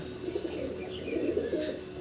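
A pigeon coos in low, soft, repeated murmurs, close by, with faint chirps and background noise around it.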